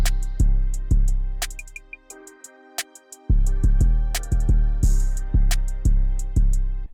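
A bouncy hip-hop beat intro programmed in FL Studio: booming 808 kicks pulse steadily under bright melodic chords, dropping out briefly for a sparse break before the drums slam back in loud and clean.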